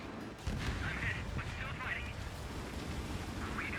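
Missile launch in the combat flight game Ace Combat 7: Skies Unknown, a sudden roaring rush that kicks in after half a second and holds as a steady dense rumble, with faint radio-like voices beneath it.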